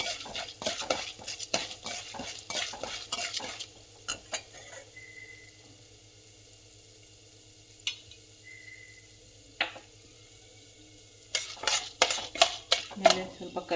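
Urad dal and chana dal frying in a pan on medium flame, with clustered spoon-on-pan stirring clatter at the start and end, a quieter stretch with soft sizzle and a few isolated taps in between.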